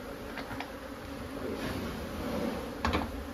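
Honey bees swarm inside an old barn in Jarrell, Texas, a continuous droning hum that stays fairly faint and even throughout, with a few brief knocks and scrapes nearby.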